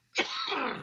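A single sudden, explosive burst of breath close by, sharp at the onset and trailing into a sustained airy hiss, like a sneeze.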